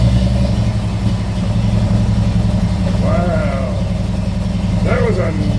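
A big six-cylinder engine, long unused and kick-started with the choke fully out, runs with a steady low idle throughout, while voices talk over it.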